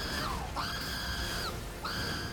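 Radagon's dog, a wolf-like boss in Elden Ring, lets out loud, shrill screams in three rising-and-falling bursts with short gaps between them, over constant background noise.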